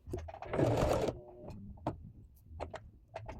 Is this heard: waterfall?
no